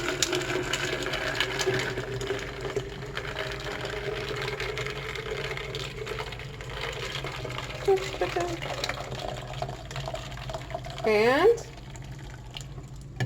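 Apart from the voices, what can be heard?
pouring tea into a pitcher filled with ice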